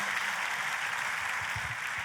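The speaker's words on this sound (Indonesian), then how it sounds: "Yang percaya sekali lagi kita kasih tepuk tangannya yang paling meriah buat Tuhan kita." A church congregation applauds together in a steady, even wash of many hands clapping, dense and sustained throughout, with a faint low rumble underneath.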